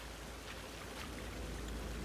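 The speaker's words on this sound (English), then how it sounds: "Are we gonna go down this waterfall?" Waterfall in the video game Sons of the Forest, a faint, steady rushing hiss of falling water with no breaks over a short stretch.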